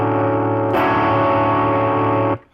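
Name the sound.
Gibson SG electric guitar played through distortion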